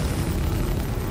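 A missile explosion in the Star Citizen space combat game, a brief, dull, rumbling boom with heavy low-end roar.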